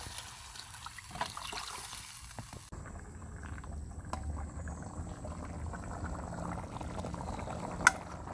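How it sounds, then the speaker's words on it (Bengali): Potatoes boiling in a pot of water during a village catfish curry, a steady low bubbling and gurgle with occasional small pops, moderately close and alone without talk. "আমার আলুগুলো সেদ্ধ হয়ে গেছে এবারে আমি মাছটা দিয়ে দেব"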